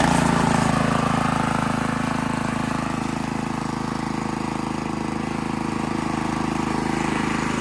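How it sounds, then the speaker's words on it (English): A Honda GX160 engine runs steadily on a Workman 2 Multimixer cement mixer after being fixed up, giving a continuous, even idling drone up close with no pauses and no talk. "One Workman 2 Multimixer cement mixer with a Honda GX160. Fixed up and running"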